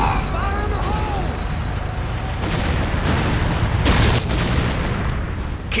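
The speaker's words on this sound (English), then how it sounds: "C4 is set. Fire in the hole!" A C4 charge detonates in a real-time strategy battle, a heavy boom rising over constant rumbling combat noise, with other explosions and voices around it.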